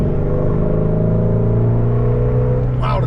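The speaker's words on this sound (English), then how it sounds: "I'm a sucker for a good sounding exhaust, but this flat plane crank really takes it to a different level." Shelby GT350 Mustang with a flat plane crank V8 revving hard, a loud steady exhaust drone with layered harmonics, rising at the end as the engine note climbs.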